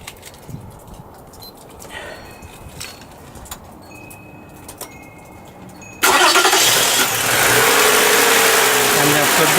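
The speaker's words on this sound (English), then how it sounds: "Start the car." A car engine cranks and catches during a fuel injector cleaning job, jumping from quiet handling noises to a loud, steady idle roar, held around 1000 RPM, that continues to the end.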